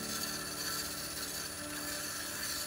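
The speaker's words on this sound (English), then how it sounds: "just keep doing that until you get it nice and sanded inside" Sandpaper scrubs the inside of a thin-stemmed turned wooden goblet with two captive rings, making a continuous, even rasping hiss at close range with no pauses.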